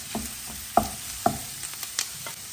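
Kefta minced meat with garlic cooks in a pan, a soft steady sizzle broken by several sharp scraping stirs and clinks of a utensil against the pan.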